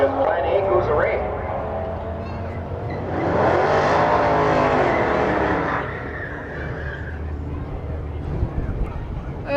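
A big GMC truck makes a drag racing pass at a drag-and-drive event in Medicine Hat, Canada, its engine roaring louder mid-run and then fading, with a commentator talking over it throughout.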